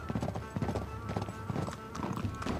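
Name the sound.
horse galloping hooves in video game Uncharted 3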